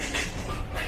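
A local train at a station platform gives off a steady rumbling rush with faint metallic rail noise, continuous and fairly loud for a brief moment, no one speaking.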